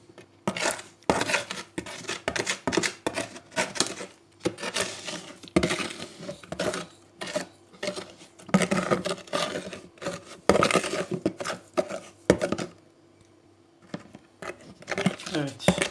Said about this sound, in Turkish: Bir miktar su koydum ve karıştırıyorum.